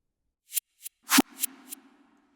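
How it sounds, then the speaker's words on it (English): Several short reversed percussion hits swelling into abrupt cutoffs, one followed by a lingering low tone, sparse and isolated. "a bunch of inverted drums that basically sound like this"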